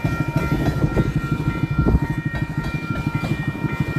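A train rolls past close by with a steady rhythmic clatter of wheels over the rail joints. It carries on alone with no voices.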